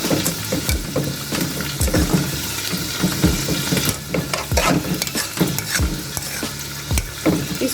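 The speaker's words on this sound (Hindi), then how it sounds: "यहाँ पर हमारे जो प्याज है वो भी भून रहे हैं" Onions frying over a low flame as cardamom powder is stirred in, with a steady sizzle under repeated scraping strokes of a spoon against the pan, loud and close throughout.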